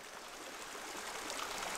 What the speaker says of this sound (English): just a little trickle coming out of a gash